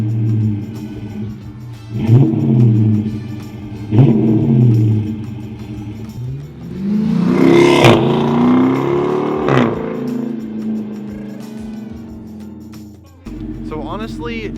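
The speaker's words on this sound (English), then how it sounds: "Just even sitting at idle and revving it up, it didn't have a massive sound difference." A Dodge Charger with the 5.7 engine and a JLT cold air intake idles with a steady low rumble, then revs in a few rising bursts before settling back, fairly close and loud.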